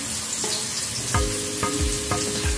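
A kilo of chicken hits a pan of sautéed garlic, ginger and onion, sizzling steadily, with several stirring scrapes and clatters at regular intervals.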